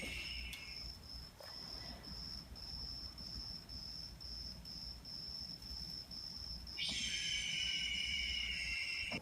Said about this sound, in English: We're having more cricket problems.